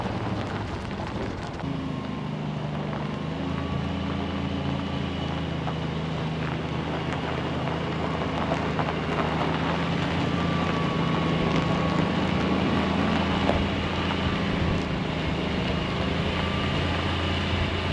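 An old Jeep engine runs and drives with a steady low rumble and a droning hum, with wind noise constant throughout and no talk.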